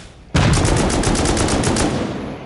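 Rapid automatic gunfire is sprayed at a wall in Rust. A fast, steady rattle of loud, close shots starts abruptly and runs without pause to the end.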